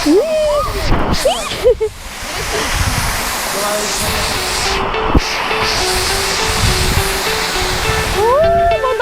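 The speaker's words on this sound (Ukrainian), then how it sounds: "Я хочу хоч трошки залізти в водоспад, але тут головне не вбитись." The Nyrynetskyi waterfall pours in a steady, loud rushing roar of falling water close by, with a voice speaking briefly at the start and a few sharp knocks and rustles over the torrent.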